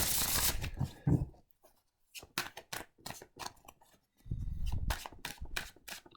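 Lenormand cards being shuffled: brisk papery riffles and a run of sharp clicking snaps, with softer rustling handling at the start and end.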